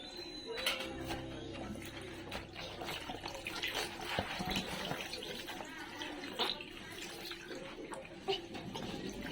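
Water splashes and pours continuously while a child is bathed on a home balcony, a close, busy wash with faint birds in the background and no clear speech.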